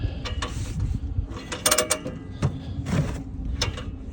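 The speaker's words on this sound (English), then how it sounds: "we have to kind of spool it onto the reel manually, otherwise it stacks the hose" A Vevor fuel hose reel is turned by hand to spool the hose, giving close mechanical clicking, ratcheting and creaking in short uneven bursts with rubbing and clunks between them.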